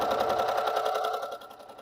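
A sewing machine driven by its foot pedal hums and chatters rapidly at close range during quilting, holding steady and then easing off slightly toward the end.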